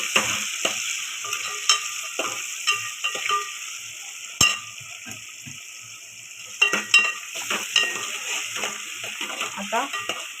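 Onion and small tomatoes frying in a pan, a constant bright sizzle with a spoon or spatula repeatedly scraping and clinking against the metal, close and fairly loud.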